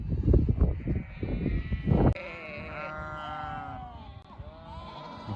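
Akkaraman sheep in a flock moving toward highland pasture bleat repeatedly, with dense overlapping bleats up close at first, then longer wavering calls over a quieter background.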